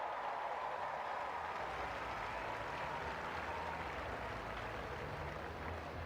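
A large stadium crowd at the London 2012 Paralympic athletics applauds, a broad, distant roar of clapping and crowd noise that stays steady and even throughout.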